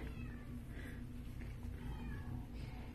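Black and white domestic shorthair cat meowing and crying out several times in drawn-out wails over a steady low background hum, faint and fairly near.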